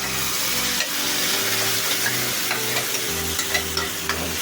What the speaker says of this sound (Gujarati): હવે એમાં આપણે આ નાખી દઈશું જે આપણે પાલકનું કરેલું છે પ્યુરી